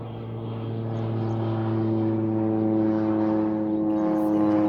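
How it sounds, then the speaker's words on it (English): An airplane passes directly overhead, a loud steady droning hum that builds gradually and holds near, with no talk over it. "there's an airplane going over"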